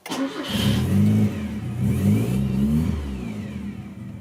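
A Mitsubishi Colt Lancer EX2000 Turbo cranks briefly and fires up, then its engine revs loudly and close, rising and falling a couple of times before settling toward a steady idle.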